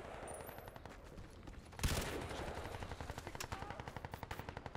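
Automatic weapon fire in the video game Crysis 2, a rapid continuous rattle of shots that starts with a sharp burst and keeps a steady fast rhythm, fairly faint and without talk.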